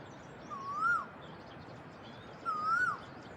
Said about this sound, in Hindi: सुबह सुबह कोयल की आवाज़